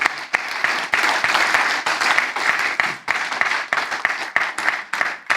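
A church congregation claps together in sustained applause, dense and fairly loud, with brief dips and swells in the rhythm of the clapping and a few voices mixed in.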